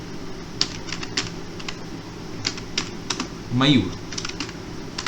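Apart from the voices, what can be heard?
typing on a computer keyboard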